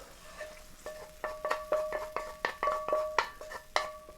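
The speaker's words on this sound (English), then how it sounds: "what we're gonna do now is just toss it all into this bowl" Grilled eggplant, mushroom and tomato tossed in a bowl with a utensil, giving a steady run of about a dozen close, bright clinks and scrapes against the bowl at a quick, uneven rhythm.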